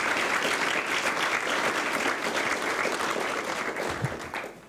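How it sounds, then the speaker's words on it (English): A seated audience gives Professor Finnis warm, even applause, steady and fairly close, fading slightly toward the end. "And please make him a big applause."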